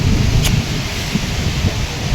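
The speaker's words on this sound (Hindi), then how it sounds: "एकदम से उठी तो बाहर बारिश आ रही है।" Steady heavy rain with a low rumbling of thunder underneath, dense and continuous.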